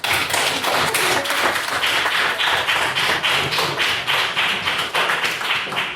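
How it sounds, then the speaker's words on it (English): Audience giving a final round of applause for the evening's speakers: a steady, close patter of many hands clapping, sustained evenly throughout with a rhythmic pulse and no talk over it. "I'll call for one last round of applause for all of our speakers this evening"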